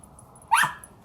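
The neighbor's dog lets out a single short bark from a short distance away, standing out sharply against quiet garden background.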